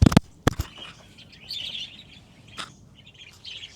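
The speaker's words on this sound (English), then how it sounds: "the parakeets are in this corner right here, and it's like they're trying to get used to it. That's why we're getting so much noise from them." Parakeets in an aviary corner give scattered high chirps and tweets, fairly faint and intermittent, with a few sharp knocks near the start.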